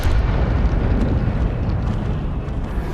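An Incendio fire spell explodes in the video game Hogwarts Legacy, a loud, dense rumbling roar of fire that holds steady and fades slightly.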